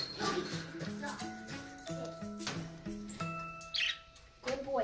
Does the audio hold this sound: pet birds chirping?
yes